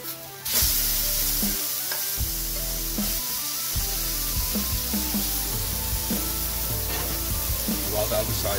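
A beef burger patty, seasoned with salt and pepper and freshly flipped, sizzles loudly and continuously in the pan, with scattered spatula scrapes and small knocks over the frying hiss.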